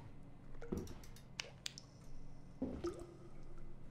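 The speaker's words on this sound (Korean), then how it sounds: "물소리 난다." Water drips and splashes inside an abandoned house in the Japanese horror game Akai Onna: a few separate wet squishy drops land near the start and again near the end, with quiet room tone between them.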